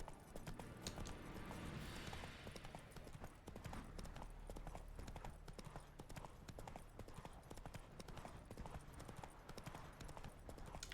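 Horse hooves clip-clopping steadily while riding in The Witcher 3, a dense, continuous rhythm of close hoofbeats at low volume with a brief whinny, and light talk in the background.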